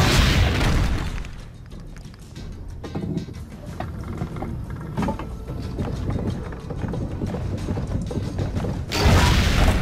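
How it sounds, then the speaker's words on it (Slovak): Cannons fire in the video game Assassin's Creed: Brotherhood. A loud, heavy boom opens, deep rumbling carries through the middle, and another powerful blast hits near the end. "Ideme strieľať z diela."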